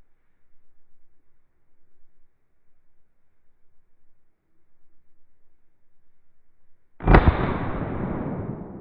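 A single loud rifle shot cracks during a big game driven hunt for deer and wild boar. A long stretch of near silence with faint rustles comes first, then a sharp report and a rolling echo that fades slowly.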